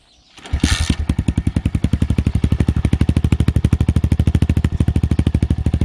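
A pit bike with its stock exhaust fires up after a brief moment of quiet and settles into a loud, steady idle with an even, rapid pulsing beat, close by and with no one talking.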